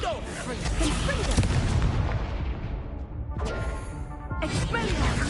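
Confringo blasting spell going off during combat in Hogwarts Legacy, a loud sustained barrage of booming, crackling impacts with a brief dip midway before more blasts.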